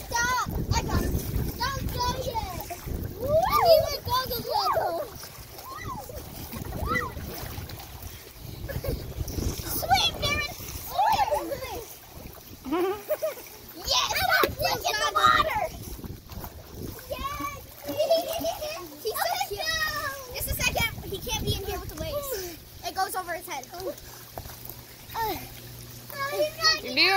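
A child swims and splashes in a backyard pool during a party, with continuous close splashing and churning water while children and adults talk and call out throughout.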